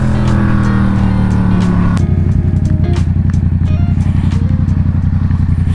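A Triumph Trident 660 three-cylinder motorcycle engine pulls hard under acceleration, loud and close, its rising drone shifting to a rapid pulsing beat partway through, with light clatter and no talk.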